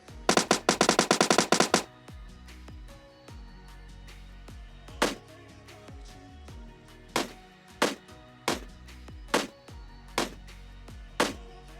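Automatic rifle fire from an M4 in a shooter video game: a loud, rapid burst of close shots at the start, then single heavy shots spaced a second or so apart with echoing tails.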